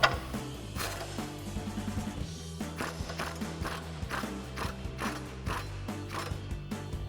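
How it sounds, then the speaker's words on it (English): Ratcheting socket wrench with a 21mm socket loosening a bolt under a 2015-2024 Mustang, steady clicking pawl mechanism repeating over a low mechanical hum, close and fairly loud throughout. "And then we're gonna switch to a 21mm socket. We're just gonna loosen this for now."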